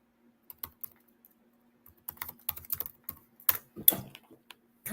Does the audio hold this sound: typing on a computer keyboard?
yes